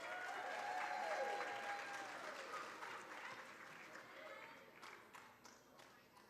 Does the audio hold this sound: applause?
yes